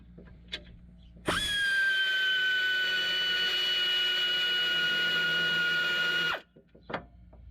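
An air ratchet spins a transmission cover bolt loose on a Hyundai Santa Fe, one loud, continuous high-pitched pneumatic whir lasting about five seconds, with brief clicks and handling noises before and after.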